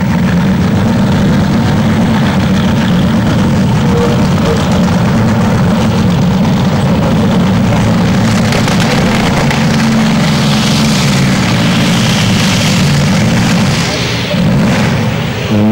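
Modified tractor engine at a 2004 tractor pulling event in the 2.5-tonne modified class, a loud sustained low rumble with heavy idling throb that builds in intensity toward the end.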